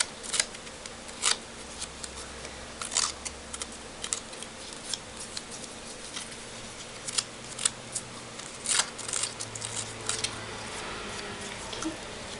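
Scissors scrape and snip along paper edges to distress them during a scrapbooking craft, a series of soft, close, irregular rasping strokes over quiet room tone.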